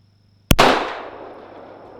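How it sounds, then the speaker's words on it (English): One sharp, loud, unsuppressed shot from a Rock Island 1911 .45 ACP pistol cracks close by, then rings and decays over about a second in an otherwise quiet setting. "we'll see what it does unsuppressed"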